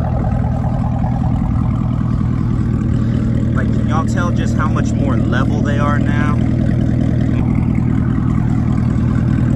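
A Chevrolet Camaro ZL1 with a newly fitted exhaust idles in a steady, close, low rumble that never rises into a rev, while someone talks over it.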